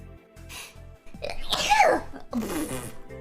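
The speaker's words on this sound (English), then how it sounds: "I have to sneeze." A single sharp sneeze from a livestreamer bursts out midway, set against a quiet repeating music beat in the background.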